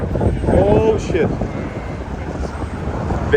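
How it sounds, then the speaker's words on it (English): Strong wind on Nevsky Prospect in St. Petersburg buffets the microphone with a steady rumbling roar, and faint voices are heard briefly near the start. "Very windy these couple days."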